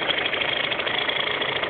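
A car engine idles in neutral during a driving lesson, a steady, even hum with a faint rhythmic flutter, heard close and alone without any talk.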